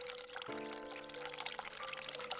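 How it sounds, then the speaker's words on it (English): Tap water runs steadily to fill a glove in The Cat Lady video game, a continuous pouring hiss with a faint tonal ring for a couple of seconds and no talking over it. "Turn the water on. Let's fill the glove up with water."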